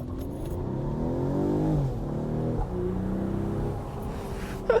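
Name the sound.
Mercedes E450 Cabriolet accelerating in launch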